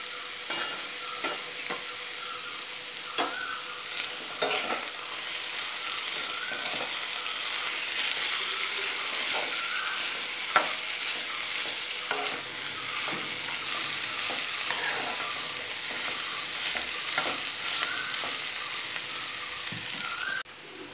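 Ivy gourd (kovakka) cooks in a covered pan for a chilli fry, giving a steady, soft sizzle and crackle with occasional faint ticks and pops throughout.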